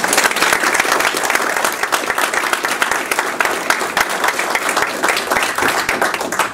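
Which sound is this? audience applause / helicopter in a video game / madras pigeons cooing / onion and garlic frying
audience applause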